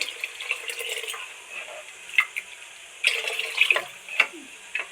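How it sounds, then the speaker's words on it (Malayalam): Water is poured into a pot of small onion sambar made without coconut, giving a steady, fairly close splashing hiss with a few brighter splashes and trickles toward the end. "സാമ്പാറിന് ആവശ്യമായ വെള്ളം ഒഴിച്ചു കൊടുക്കാം"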